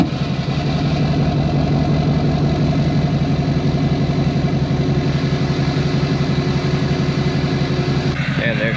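A Duramax diesel truck engine with a 5 inch exhaust tip idles steadily, a loud low rumble with a constant drone throughout, and a brief shift near the end.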